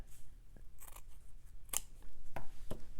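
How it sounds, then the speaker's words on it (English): Scissors clip sewing thread on a stitched lace panel, close and quiet: a few soft, crisp snips with short pauses between them and no talk. "I'll clip my thread"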